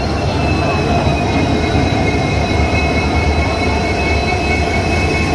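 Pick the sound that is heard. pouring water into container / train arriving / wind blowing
train arriving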